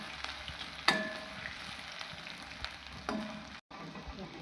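Crushed garlic cloves and ginger sautéing in a pan for Kerala-style egg roast give a steady soft sizzle, broken by two sharp clanks of a utensil against the pan and brief scraping stirs.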